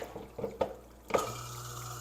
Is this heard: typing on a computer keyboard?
no